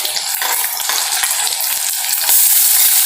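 Ginger-garlic paste fries in a pan with browned onions, giving a close, steady sizzle broken by scraping stirs, loud and continuous with no speech.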